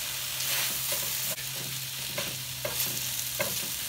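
Sausage with onions and peppers sizzles in a frying pan while being stirred, with a steady close fry hiss broken by repeated scraping stirs.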